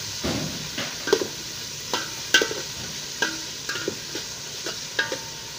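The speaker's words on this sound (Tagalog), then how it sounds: "Gisa muna natin itong ano guys, sibuyas." Onions sautéing in a pan for Filipino chicken adobo, with a soft steady sizzle broken by repeated scraping stirs of a utensil against the pan, close and clear with no talk.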